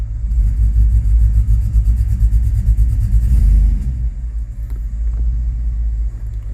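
A 2005 Chevrolet Tahoe 5.3L V8 4x4 with a stalling and crank-no-start fault runs close by with a deep, loud rumble, revving up for a few seconds before easing back to a steadier idle.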